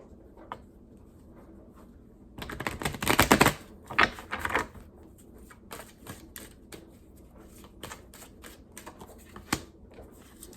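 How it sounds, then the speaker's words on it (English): Tarot cards are shuffled and drawn close by, with a quick riffle of flicking card sounds followed by sparse crisp snaps and taps as single cards are pulled and laid down. "So let's go ahead and get a few tarot cards for you."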